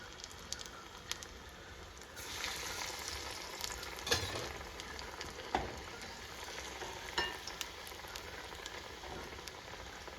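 Breadcrumb-coated balls deep-frying in hot oil, a steady crackling sizzle with scattered sharper pops and bursts, close and continuous, no voices.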